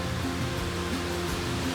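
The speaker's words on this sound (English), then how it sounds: "because the waves here are so beautiful and smooth." Ocean waves roll onto Weligama beach in Sri Lanka as a steady broadband wash, continuous and fairly loud, with a faint tonal hum beneath and no speech.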